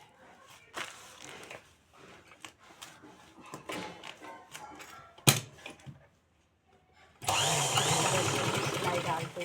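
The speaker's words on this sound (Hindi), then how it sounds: "हम इसमें यहाँ से सिलाई डालेंगे" A sewing machine stitches two pieces of a plastic sack together for a handbag, starting as a loud, steady mechanical whir near the end after a stretch of talking and handling noise.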